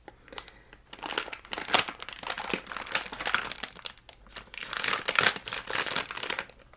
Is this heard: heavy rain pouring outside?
no